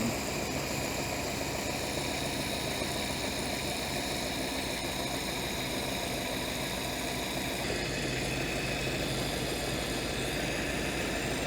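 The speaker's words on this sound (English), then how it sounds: "Gotta love flathead engines, they just run so nice and quiet." A small flathead engine idles steadily, a constant loud, even mechanical hum and buzz with no valve-train clatter that continues unbroken from start to finish, with a slight change in tone partway through and no talking.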